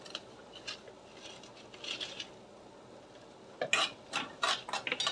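Onion and a bay leaf sautéing in a pan, quiet at first with a few light scrapes, then a run of brisk clinking and scraping strokes of a spoon against the pan near the end.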